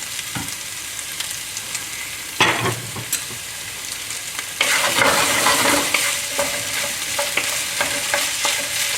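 Ginger garlic beef stir fry with spicy sauce and hot chili sizzles in a pan, a steady hiss that jumps louder midway as more goes in, with scraping stirs and clatter and no speech.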